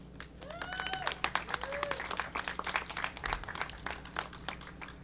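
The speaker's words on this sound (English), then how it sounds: "let's give a round of applause to Sophia." Audience applause at a press event on DACA, moderate scattered clapping with sharp individual claps and a brief tonal squeak early on, fairly close and not very loud.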